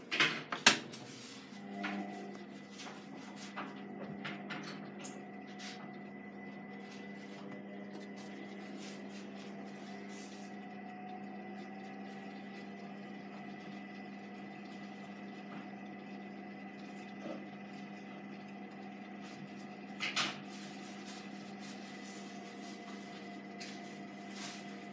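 A Hotpoint HV7L130 washing machine with graphite drum and 1300 spin starts a test run, opening with a few clunks and clicks, then a steady low mechanical hum with a pump-like whine and an occasional knock.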